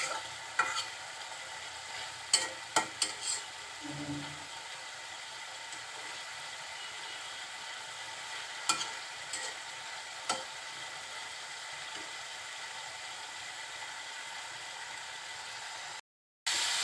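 Malabar spinach and potatoes sizzle softly in a pan, a steady low frying hiss broken by a few light stirring clicks and scrapes, with no talking.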